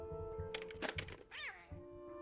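A house cat gives a short meow with a rising and falling pitch, mixed with some thumps and rustling and a brief bit of human voice nearby.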